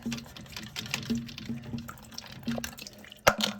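Water drains from a toilet tank during a fill valve replacement, trickling and dripping close by in an uneven stream, with small clicks and a sharp knock near the end.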